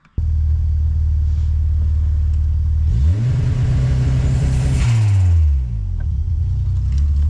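Modified VW Golf 2 with a turbocharged 1.3-litre engine, idling loud and steady up close, with one brief rise and fall in revs midway before settling back to a fast idle.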